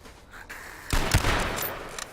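Gunfire in the video game H1Z1, a burst of several rapid shots after a quiet start, loud and close, trailing off into scattered reports.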